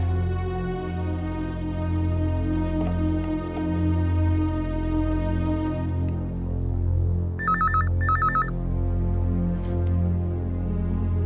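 A telephone bell rings in two short bursts, clear and fairly close, over a steady low hum of room tone with no speech.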